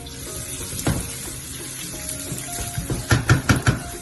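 Onion drops into a hot pan for lamb ragu, sizzling with a brief crackle, then a burst of sharp frying spits and clatter toward the end, close and alone.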